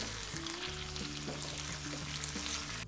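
Small chicken pieces for Chettinad chicken fry sizzle steadily in a pan. A soft, even hiss runs throughout, fairly quiet and alone.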